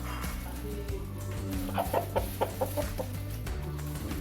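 A wet fighting rooster clucks in a series of short, close clucks while it is being dried after a bath, and there is some rustling and background noise.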